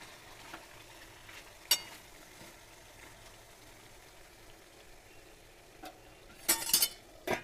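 Bhuna chicken cooks slowly in its own juices and oil with no water added, giving a quiet, steady sizzle broken by a few sharp clinks and scrapes of stirring.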